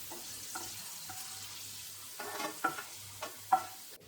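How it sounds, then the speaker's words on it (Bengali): A whole garlic bulb frying in oil until reddish, with a soft steady sizzle under scattered stirring scrapes and light clinks in a quiet kitchen. "একটা গোটা রসুন দেখুন দিয়ে দিলাম, লালচে করে ভেজে নেব"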